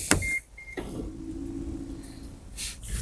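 Tailgate of a 2017 Subaru Forester Limited 2.5 closing: a short click, a sustained electric motor whine from the power liftgate, and a final latch sound, close and alone.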